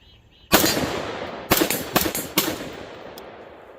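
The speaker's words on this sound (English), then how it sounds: "Let's get some shots." AR-15 rifle with a muzzle compensator and ACOG optic fired outdoors: four sharp, loud gunshots, the first alone, then three in quick succession, each with a ringing echo tail.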